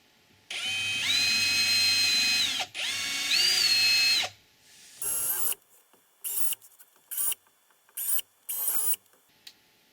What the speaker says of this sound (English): drive the screw, see how it goes, and then adjust accordingly